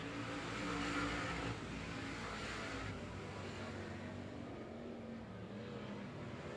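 Street stock cars roar around a dirt track in a heat race, a continuous blend of engines at middling distance, steady and moderately loud with no talk.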